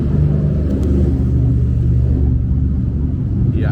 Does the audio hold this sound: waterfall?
no